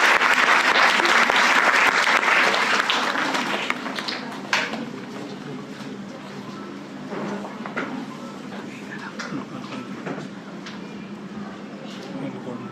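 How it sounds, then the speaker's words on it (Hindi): An audience claps loudly, welcoming a guest onto the stage at a heritage festival lecture; the dense applause fills the start and then thins to scattered claps. "जोरदार तालियों से मैम का स्वागत किया जाए।"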